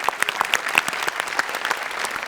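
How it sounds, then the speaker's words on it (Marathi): Loud, dense applause from an audience after a stage performance, with steady rapid clapping that holds throughout and no talk over it. "जोरदार टाळ्या."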